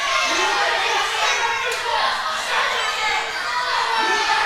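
Wrestling crowd at ringside in Alvarado during an APW heavyweight championship match, a dense steady roar of chatter and shouting that stays loud throughout, with voices of fans and commentary mixed in.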